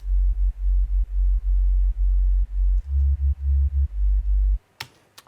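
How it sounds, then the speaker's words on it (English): Sine-wave sub bass from a Make Noise DPO modular synth, deep pulsing notes in a steady rhythmic pattern with a brief pitch step, loud and isolated, stopping abruptly before a couple of faint clicks. "So first we have the sine sub."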